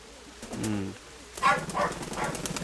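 Soft, low pigeon cooing, a few rounded calls close by, followed by faint rustling and background sounds.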